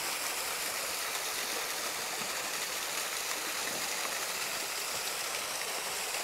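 Waterfall on Ben More on the Isle of Mull, heard close as a loud, unbroken rush and hiss of falling water, steady from start to finish with no voices.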